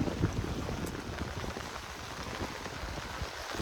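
Steady rain pours down over a village, a dense hiss of drops hitting surfaces close by, constant and unbroken with no voices.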